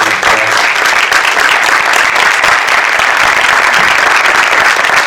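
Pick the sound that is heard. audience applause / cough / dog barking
audience applause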